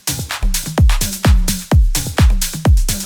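Remix drum loops and fills play together in a steady groove, with punchy booming kicks, snappy hits and bright hi-hat texture repeating in a tight rhythm, loud and upfront with no voices.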